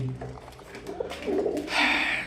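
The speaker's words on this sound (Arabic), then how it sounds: "ادي يا جماعه الحمام اهو قدامكم" Imported pigeons, shipped in from Libya in a fruit crate with wings and tails trimmed, coo softly up close, with low murmuring calls that swell toward the end amid a little background noise.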